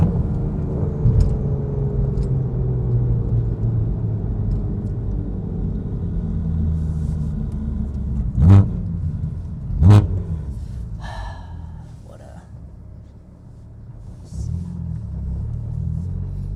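A BMW M4 with the S55 engine and an Active Autowerke exhaust, valves open, rumbles deeply at close range, punctuated by a couple of sharp, quick blips.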